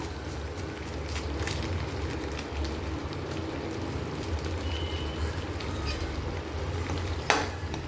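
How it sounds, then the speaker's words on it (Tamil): A spiced chickpea masala of tomato paste, turmeric, chilli powder and garam masala sautéing in a pan, with a continuous close sizzle, scraping spatula strokes and one sharp knock near the end. "மசாலாவோட பச்சை ஸ்மெல் போகிறது வரைக்கும் நல்லா வதக்கி விட்டுக்கலாம்"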